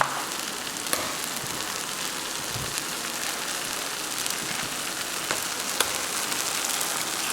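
Eggs cracked one after another into a shakshuka pan, the sauce sizzling in a steady, dense crackle throughout, with a few sharper pops and spits, close and loud, no talking.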